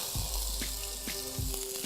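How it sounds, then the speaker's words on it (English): Soft, steady sizzling of potatoes frying in oil, a close crackling hiss with faint clinks and scrapes mixed in. "Hear that sizzle?"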